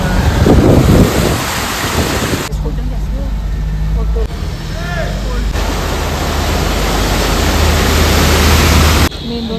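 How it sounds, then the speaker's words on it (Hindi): Rain drums steadily on a car on a road between Shillong and Guwahati, a dense hiss that stays loud throughout, briefly dropping and returning, with a voice speaking over it. "बारिश फिर से आने लगा।"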